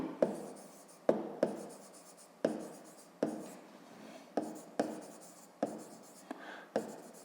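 Pen strokes on paper while notes are written out for a fifth-grade maths exercise: a steady run of close, sharp scratchy marks, each stroke a quick attack that fades, repeating about every half to one second with no talking.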